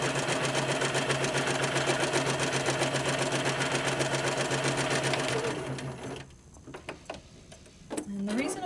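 A Spiegel 60609 sewing machine runs steadily up close, stitching fabric with a rapid, even mechanical chatter for several seconds before stopping, after which a few faint clicks and handling sounds follow.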